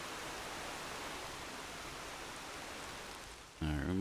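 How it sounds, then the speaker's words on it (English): Steady rushing water from a little waterfall in a lumber-town settlement building game, a continuous broadband hiss that holds level for several seconds before a voice cuts in at the end. "We got ourselves our nice little waterfall."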